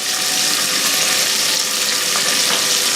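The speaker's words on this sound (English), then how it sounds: "I'm going to go ahead and add my sausage." Sausage links cut into chunks with casings on sizzle in a hot Dutch oven, a dense, continuous frying hiss and crackle, close and loud without any talking.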